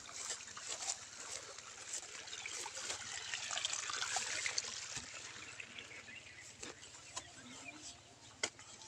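Faint trickling and splashing water, gently spilling over with occasional sharper drips and taps, quiet and close.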